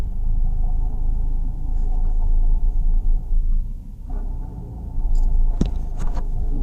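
A car rumbles steadily in heavy Manila traffic on the way from Guadalupe Commercial Complex to Power Plant Mall, with a continuous low engine and road drone and a few sharper clicks and knocks near the end.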